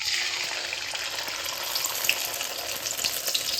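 A sunny-side-up egg cut with chopped chili fries in hot oil, giving a steady, close sizzle and crackle with scattered pops and no voices.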